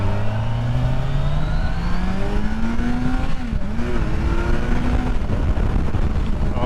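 A Kawasaki Ninja 1000SX sport motorcycle pulls hard under acceleration, its engine note rising steadily before a quick-shifter gear change briefly drops the pitch, then it climbs again; loud and continuous, with no talking.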